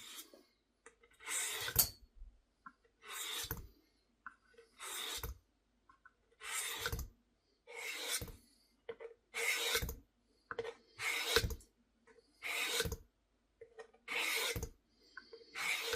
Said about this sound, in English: My favorite part, sharpening.